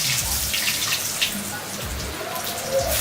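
Chopped garlic hits hot oil with bay leaves for a spicy country chicken curry, giving a close, steady, hissing sizzle with small crackles throughout.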